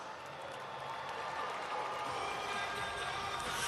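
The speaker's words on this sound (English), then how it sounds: "let's give him a round of applause." Monster Jam arena crowd in Sacramento applauding and cheering, a steady wash of clapping and voices that swells slightly toward the end, heard at a distance.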